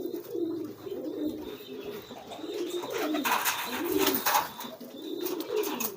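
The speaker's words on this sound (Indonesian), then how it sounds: "Saya biasanya menampilkan merpati-merpati yang sudah giring keras." Domestic pigeons coo repeatedly in a cage, low throaty rolling calls rising and falling in a steady rhythm, close by and moderately loud, with a brief rustling flurry partway through.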